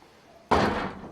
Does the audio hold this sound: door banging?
yes